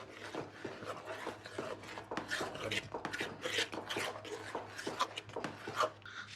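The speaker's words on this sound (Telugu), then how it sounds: "సో కొంచెం గట్టిగా కలుపుకుందాం దీన్ని." Kesari halwa is stirred firmly in a pan for a temple offering, giving quiet, close, irregular scraping and rasping strokes that follow one another with no speech.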